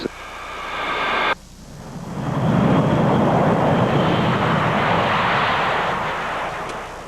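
A Boeing B-52 bomber, the Memphis Belle III, departing Blytheville Air Force Base in 1992, its jet engines roaring loud and broad, a whining tone cutting off sharply before a swelling, sustained rumble.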